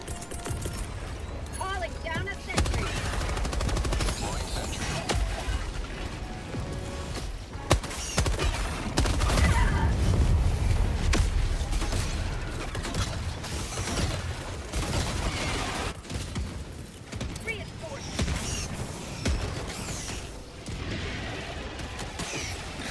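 Mortar strikes and gunfire in Helldivers 2 rumble through a dense, sustained battle mix, with booms and rapid shots layered over constant noise and people talking throughout.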